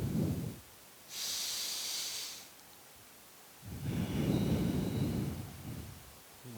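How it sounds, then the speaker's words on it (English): Slow, deep breathing during a beginner yoga session: a long exhale, a hissing inhale, then another long exhale, close and quiet with gentle pauses between breaths. "Good, full, conscious, deep breaths."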